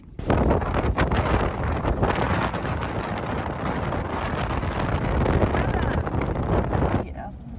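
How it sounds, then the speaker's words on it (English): Strong wind buffets the microphone in a loud, continuous roar with gusty surges, cutting off abruptly near the end. "It's really windy today."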